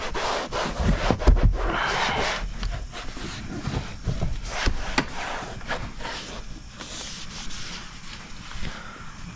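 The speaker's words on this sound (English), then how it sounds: "Go ahead and take this, wipe it down, wipe down our panels." A towel rubs and wipes firmly across the door panels of a 2022 or later Toyota Tundra, giving steady scraping strokes in irregular bursts, close up, with no voices.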